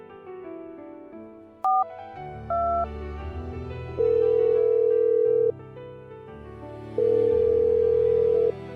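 An outgoing phone call rings unanswered: a couple of short dialing beeps, then two long, loud ringback tones separated by a pause, with no one speaking.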